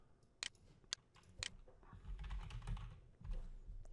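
Keystrokes on a computer keyboard entering an email address and password, starting as a few separate sharp clicks and then running into quicker, denser typing, close by with no voices.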